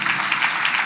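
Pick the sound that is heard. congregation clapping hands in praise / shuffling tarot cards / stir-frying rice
congregation clapping hands in praise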